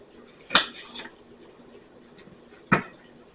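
A knife slices through a ripe pear on a cutting board, giving two sharp cuts about two seconds apart, close and clear with nothing else heard.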